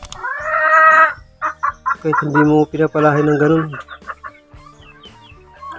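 Chickens cluck and call close by in a farmyard, a rooster among them, with short repeated clucks under someone talking.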